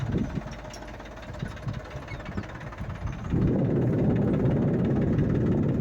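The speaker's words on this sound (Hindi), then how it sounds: "इसमें ट्रैक्टर घूम के वापस आ जाएगा" A tractor sows a field after rain, its engine knocking steadily, then rising into a louder, denser roar partway through as it works nearby.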